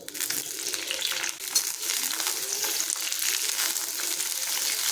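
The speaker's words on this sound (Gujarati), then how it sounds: "સિમલા મરચાંને તેલમાં થોડા ફ્રાય કરી લઈશું" Capsicum (bell pepper) pieces frying in hot oil in a pan for a quick potato curry, giving a steady, close sizzle with a brief stir partway through and no talking.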